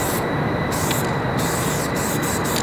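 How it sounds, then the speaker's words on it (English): A can of Molotov Premium spray paint sprays continuously at close range, a loud, steady, broad hiss that runs unbroken from start to finish. "It just comes out like a freaking death spray"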